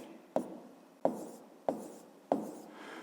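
Pen strokes on paper while working a fifth-grade maths exercise: four short, crisp scratching bursts at an even pace, close and quiet, with no talk.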